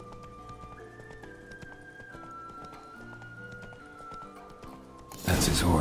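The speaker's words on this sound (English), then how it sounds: "That's his horse." Horse hooves and a neigh in The Witcher 3: Wild Hunt, a beautiful horse named Scorpion, with tonal game music underneath and a sudden loud burst of hoofbeats and noise at the end.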